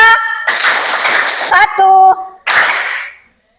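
Students in a biology classroom clap out a counted rhythm in two loud bursts of many hands, with a voice calling out between them.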